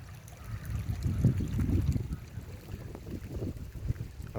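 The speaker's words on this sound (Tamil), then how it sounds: "இந்த தண்ணி ஃபுல்லாக நெல் வயலுக்கு பாஞ்சிட்டு இருக்கு பாருங்க." Irrigation water rushes steadily across a path and into a green paddy field near Anamalai, Pollachi, a continuous low churning flow with some wind buffeting the microphone.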